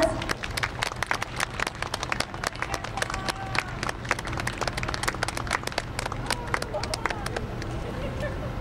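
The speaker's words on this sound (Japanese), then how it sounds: "皆様大きな拍手をお願いいたします。" A crowd applauds on a cruise ship dock after a welcome performance by a fire brigade band, sharp scattered claps ringing out over a low rumble and background murmur, fairly close and continuous.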